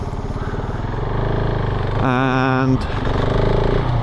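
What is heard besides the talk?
KTM 690 Enduro motorcycle engine riding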